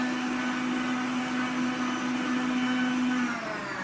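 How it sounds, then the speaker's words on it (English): An electric mixer runs steadily at speed, beating chocolate chip cookie dough with a constant whirring drone that holds for several seconds before tapering slightly at the end. "I've got an electric mixer, so I'm going to use it."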